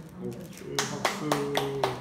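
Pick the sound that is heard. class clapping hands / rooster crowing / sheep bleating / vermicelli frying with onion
class clapping hands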